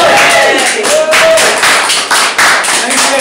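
An audience applauds after a painting is unveiled, a loud, close burst of dense clapping that holds steady across the whole stretch, with a voice faintly mixed in.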